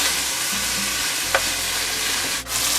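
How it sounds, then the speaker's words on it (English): Tomatoes, peppers and tomato paste cooking in a pan for a seafood enchilado, a dense close sizzle that runs steadily throughout, loud and unbroken apart from one brief tap. "You want to cook the tomatoes a little bit,"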